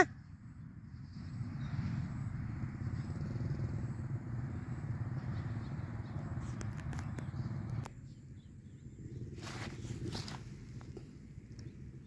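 A motorcycle being ridden steadily, its engine a constant low drone that drops briefly partway through before resuming, with a few faint clicks and rustles on top.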